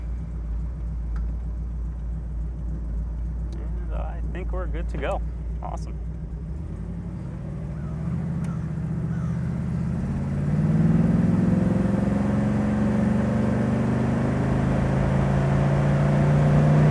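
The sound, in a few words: 1967 Chevrolet Camaro convertible 502 engine idling and driving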